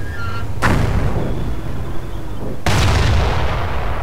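Two heavy booming shots from a Firefly tank gun in the strategy game Company of Heroes, each a sharp blast followed by a long rumbling decay, loud and close with a pause between them.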